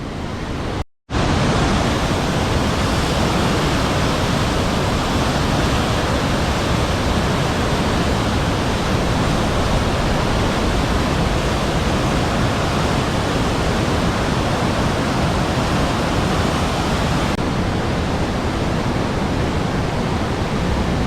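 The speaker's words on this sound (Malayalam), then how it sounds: "ഇവിടെ കുറച്ച് ഷട്ടർ തുറന്ന് കിടക്കണേണ്. അത് കാരണം വെള്ളം പോണ ഫോഴ്സ് കണ്ടോ." Water pours forcefully through open dam shutters beneath a bridge in Nepal, a loud, dense, unbroken roar that fills the whole stretch after a brief dropout at the start, with no voices.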